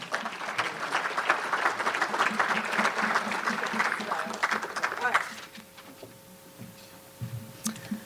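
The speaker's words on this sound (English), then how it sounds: "let's give her a big round of applause" An audience at an awards presentation gives a round of applause in a hall. The clapping is dense and lively for about five seconds, then stops abruptly, leaving room tone and a few stray sounds.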